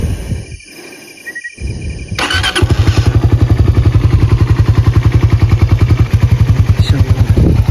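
A motorcycle engine starts after a few quiet seconds and some clatter, then settles into a loud, close, rapid rhythmic idle that thumps steadily to the end.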